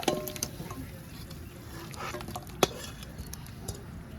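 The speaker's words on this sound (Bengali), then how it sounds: "চিকেনটা এখন উঠিয়ে নিচ্ছি।" Cooked chicken curry is scooped from a pan, a soft continuous stirring and scraping with a light sizzle underneath and a few clinking taps from the utensil, close and fairly quiet.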